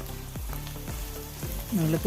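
Chopped ginger and carrot stir-fried in a pan for oats upma give a close, continuous sizzle, with stirring scrapes breaking in at a steady rhythm.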